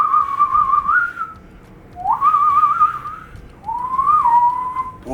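A person whistles three rising and falling warbles in imitation of birdsong, clear and close, with short pauses between phrases and no talking.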